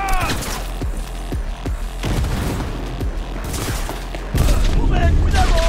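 Gunfire in the video game Cyberpunk 2077: rapid bursts of shots and booming impacts stacked over a steady loud roar, with a heavier blast near the end, while someone shouts over the action.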